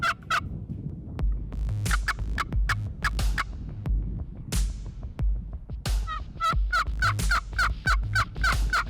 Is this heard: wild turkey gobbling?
yes